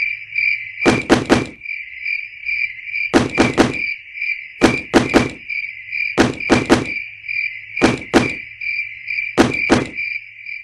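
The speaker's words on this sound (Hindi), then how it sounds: "इतनी रात में दरवाजे पे कौन दस्तक दे रहा है?" Knocking on a door at night, sharp raps in regular groups of two or three, repeated about every one and a half seconds over a steady chirping of crickets; no one speaks.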